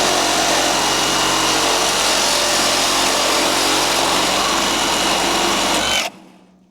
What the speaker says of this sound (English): Just cordless Sawzall, metal cutting blade.